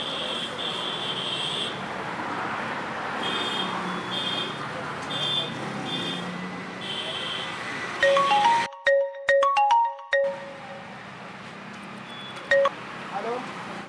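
Steady background chatter and noise, then a sharp burst of ringback tones and electronic beeps, repeating several times before the noise returns.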